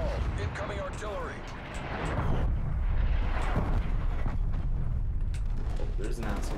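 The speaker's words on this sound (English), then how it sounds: "Hostile artillery targeting active. Med call. Incoming artillery." Artillery shells in the Black Ops Cold War video game boom and rumble in a dense, continuous barrage. Game effects and voices are heard over the bombardment.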